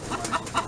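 A turkey at a friend's house gives three short, clear clucks in an even rhythm, close by, with no talking.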